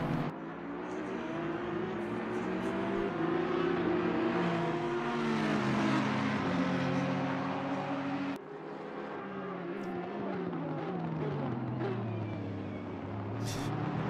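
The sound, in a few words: racing car engines at Spa, from video game Assetto Corsa Competizione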